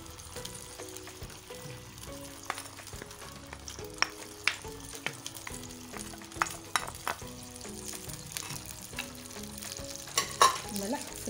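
Onion and garlic frying in a pan for a traditional Algerian dish, a steady close sizzle with occasional stirring clinks and scrapes throughout.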